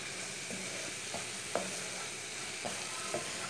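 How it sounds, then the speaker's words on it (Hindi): Okra in cream frying in a pan gives a steady close sizzle, with a spoon stirring and scraping in a few light, irregular knocks. "ऐसे इसे चम्मच चलाते हुए 2-3 मिनट के लिए भून लेंगे।"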